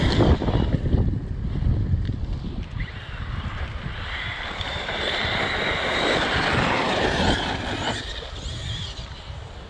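Arrma Kraton XL RC car with a 1650KV motor tearing past at speed, its loud electric whine and rushing wind noise surging and fading continuously with no talk.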